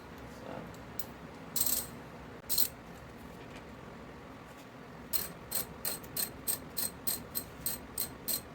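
A ratchet with a 10mm socket works a bolt loose during a TRD air intake install on a 3rd gen Toyota Tacoma, a few scattered clicks followed by a quick, evenly spaced run of close ratcheting clicks, no talk.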